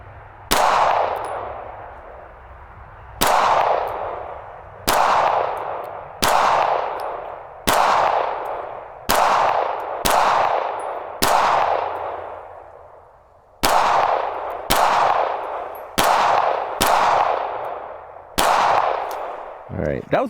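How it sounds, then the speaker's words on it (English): An M&P Shield Plus pistol fires at a target, with about fourteen sharp, loud shots. They come singly and in quick pairs, and each one rings out with a short echo. "This is by far been my favorite pistol to date to shoot with"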